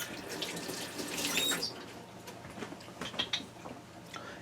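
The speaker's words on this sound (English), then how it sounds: "let me give my hand a quick rinse" A hand is rinsed under running kitchen tap water in a soft, close splash and trickle, followed by a few faint drips and patters as the flow ends.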